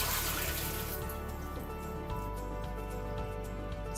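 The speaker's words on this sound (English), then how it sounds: "So we'll get started by first draining the water." Water trickles and splashes steadily for a few seconds as it is drained off soaked lentils, like liquid poured into a sink, close by with a faint background hum.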